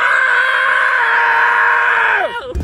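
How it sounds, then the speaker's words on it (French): Several people scream together inside a car, a sustained loud, close cry holding steady for about two seconds before breaking off abruptly. "Laissez-nous crier une dernière fois."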